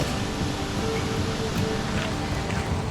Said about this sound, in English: It's a really short hike through the woods to this gorgeous waterfall